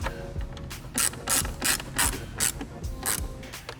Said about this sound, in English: now we'll tighten the center T30s down